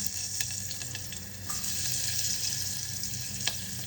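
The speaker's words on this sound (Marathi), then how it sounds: "सोललेलं लसूण, चिरलेला लसूण परतवून झालं." Garlic, peeled and chopped, sizzling in a little oil with turmeric and asafoetida in a pot, a steady close-up fry with occasional stirring clinks and scrapes, no talking.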